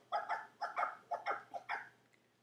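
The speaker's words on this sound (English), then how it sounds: "Dogs is barking off the hook like they don't have no common sense." Dogs bark in The Sims 4 video game, about seven sharp, close barks in quick uneven bursts, clear and without speech over them.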